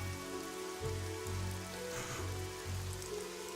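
Steady rain falls in the Evoland II video game, a dense, even patter on surfaces that runs unbroken and fairly loud for the whole stretch, with no voices.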